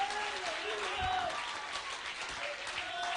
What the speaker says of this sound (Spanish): Dale un buen aplauso a Jesucristo esta tarde.